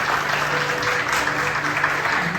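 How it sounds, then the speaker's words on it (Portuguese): A church congregation applauds during a Holy Communion service, a dense, continuous wash of many hands clapping, loud and close, with a low hum of voices underneath. "Vamos aplaudir o Senhor Jesus."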